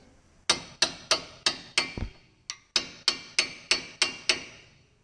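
Sharp, close metallic hammer strikes on a chisel drive a frozen brake caliper pin out of a Toyota Corolla caliper, about a dozen evenly spaced ringing blows with a short pause midway.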